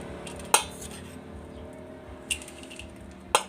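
Fried pad mee noodles are scooped onto a serving plate with a utensil, giving three sharp metallic clinks against the dish over a quiet kitchen hum, with no talk.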